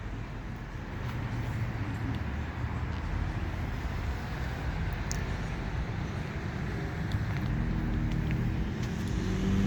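Steady road traffic at an intersection near rush hour rumbles continuously, with cars passing nearby in a dense, low roar that swells slightly toward the end.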